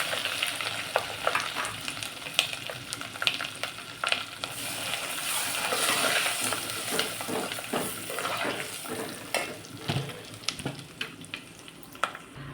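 Whole spices, dried chillies, curry leaves and asafoetida crackle and sizzle in hot oil for tempering, with a steady frying hiss, brief sharp pops and stirring scrapes close by, and no talking.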